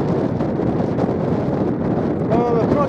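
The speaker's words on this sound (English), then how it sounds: "wind's got up a little bit" Wind blowing hard across a microphone near the top of Ladyside Pike, a steady loud low roar and buffeting throughout with no pauses.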